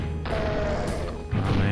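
Rockets launched at enemies in the Freedoom first-person shooter, two loud thudding blasts over a dense rumbling background, one at the start and another near the end.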